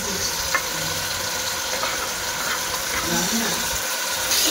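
Fish curry fries in a pan, a steady loud sizzle with faint stirring scrapes running throughout, while a voice is heard faintly in the background.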